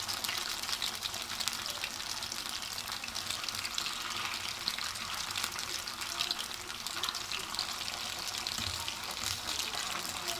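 Potato pinwheels fry in hot oil over a low flame, giving a steady, dense sizzle and crackle that holds evenly throughout without pause.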